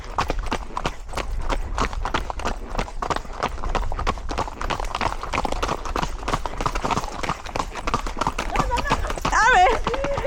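A pony's hooves clip-clop in a steady walking rhythm on a tourist outing, close and continuous, while people talk over it.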